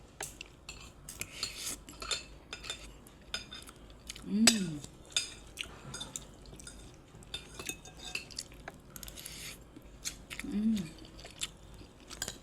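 Spoon clinks against a plate and quiet chewing while eating mung bean stew with a side of sour fish dish, close and intermittent, with two sharper metallic taps and soft mouth noises throughout.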